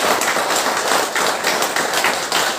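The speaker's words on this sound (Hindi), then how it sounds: "जो आज हमारा दुबई ऑफिस खुल रहा है सर, दुबई ऑफिस और सिंगापुर ऑफिस खुल रहा है, एक बार तालियां तो बनती है" An audience at a speech event applauds the opening of new Dubai and Singapore offices, a steady dense patter of many hands clapping throughout, fairly loud and continuous.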